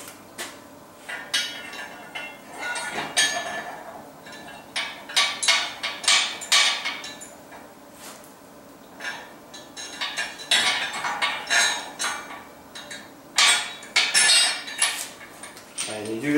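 Metal hardware clinking and tapping while bolts, bushings, washers and nuts are fitted onto the cross members of a 20-ton King shop press, a steady run of close, irregular clanks and knocks with no speech.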